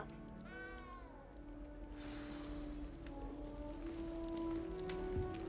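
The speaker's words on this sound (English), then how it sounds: "You don't need to be frightened, little cat." A frightened little cat in Hogwarts Legacy lets out a couple of clear, drawn-out meows, close and fairly soft, over a quiet rain-like ambience.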